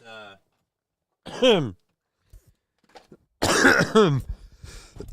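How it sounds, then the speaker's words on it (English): Several close coughs and throat-clearing rasps come in separate bursts with short silences between, ending in a heavier coughing fit. "We're coughing so much."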